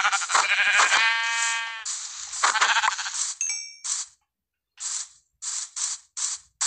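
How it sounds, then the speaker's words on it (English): A Minecraft sheep bleats in a wavering, buzzy burst near the start, followed by short chiming game sound effects and a few clipped blips spaced out across the rest, with no talking. "I know I saw a sheep."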